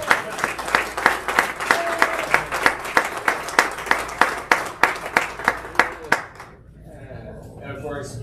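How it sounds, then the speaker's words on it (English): Audience at a holiday luncheon breaks into steady, rhythmic clapping with sharp individual claps, sustained for about six seconds before fading into light murmuring and a few voices. "Thunderous applause."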